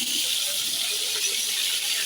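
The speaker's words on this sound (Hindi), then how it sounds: "ये देखिए जी, अब इसमें मैं सीख कबाब फ्राई कर रही हूँ।" Seekh kebabs frying in a pan, a steady, bright hiss of hot oil sizzling continuously and fairly close, with no pauses.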